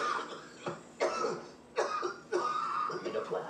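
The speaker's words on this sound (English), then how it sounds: "He is coughing a lot." Several harsh coughs burst out in irregular succession, close and fairly loud, with short gaps between them.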